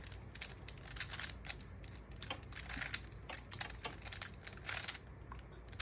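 Rapid plastic clicking and ratcheting as pieces of a Mastermorphix gear puzzle cube are twisted over and over, close and fairly quiet, with no talking.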